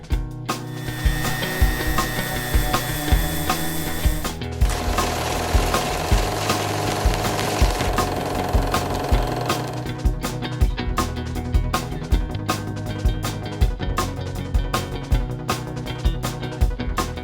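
Wood filler spread over a thrift-store table top being sanded smooth, a steady, close rasping scrub that runs the whole time with rhythmic pulses and a brief change in tone partway through, no voices.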